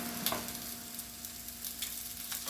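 Crab roasting on a griddle over medium-high heat gives a steady, quiet sizzle with faint crackles and no voices.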